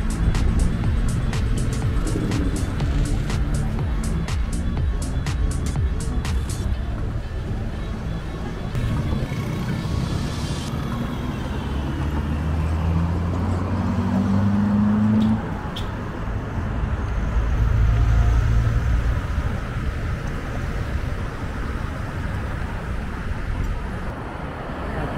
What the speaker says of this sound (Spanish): Muchos carros.